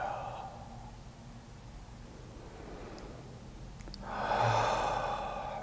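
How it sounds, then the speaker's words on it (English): A deep breath out through the mouth at the close of a guided breathing meditation, a soft airy exhale followed by a louder, fuller breath near the end, alone with no talk. "Take some final deep breaths in through the nose and out through the mouth."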